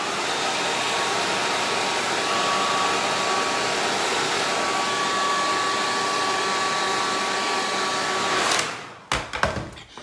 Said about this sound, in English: so now we're gonna blow dry it.